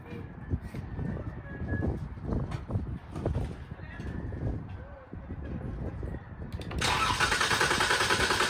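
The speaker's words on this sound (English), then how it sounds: "Now let's crank the car and see if we can remove all the fuel pressure." A 2014 Dodge Charger SE with the 3.6 engine cranks with its fuel pump relay removed, a rhythmic starter churning that turns into a louder steady whir near the end, with someone talking over the first part.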